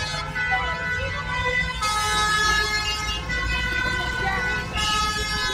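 A fire engine's siren wails over steady road noise as it approaches an accident scene in a traffic jam involving a red-and-white Citroën 2CV Charleston, with voices faintly underneath.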